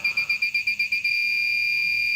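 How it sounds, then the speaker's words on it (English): An Arduino-driven buzzer reads a potentiometer and sounds a rapid run of about eight short, shrill beeps in one second, then holds one continuous steady tone, clear and alone. "Every single beep that you hear is different because that's the amount of times that the Arduino reads the potentiometer"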